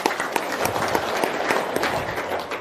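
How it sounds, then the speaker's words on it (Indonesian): Audience applause at a talk on bank loans, a steady dense patter of many hands clapping throughout, fairly close and even in level. "Dan itu tepuk tangan dulu."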